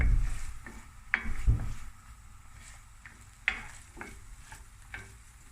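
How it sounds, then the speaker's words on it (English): Onions with finely chopped garlic fry softly in a pan while a spoon stirs them, a low sizzle broken by a few sharp scrapes and knocks of the utensil, with no talk. "we're just going to fry this until the onions are nice, translucent and a little bit caramelized"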